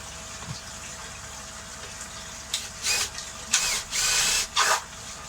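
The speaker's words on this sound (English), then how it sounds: "We line it up, so we're going to want holes." A drill boring holes in an EasyPod cap for a koi pond, several short bursts of whining drilling about a second each, close by, after a quiet stretch.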